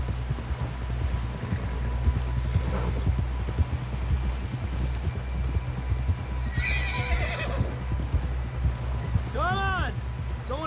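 Horse neighs and whinnies in Red Dead Redemption 2, with steady hoofbeats clip-clopping over a constant low rumble; a sharp rising whinny stands out near the end.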